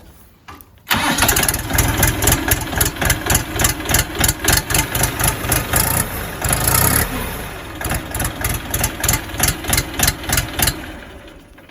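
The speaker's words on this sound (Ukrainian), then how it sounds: "Давайте заведу, послухаємо роботу юдешного двигуна." The diesel engine of a Xingtai T240 mini tractor cranks briefly, catches, and settles into a loud, rhythmic chugging idle close by, with a slight throaty pulse throughout.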